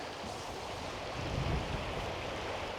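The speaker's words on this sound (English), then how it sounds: "So this is meant to be a river crossing." Steady broadband rush of a river flowing over stones at a marked river crossing on a Northumberland hill walk, constant and fairly close, with wind noise across the microphone and no voices.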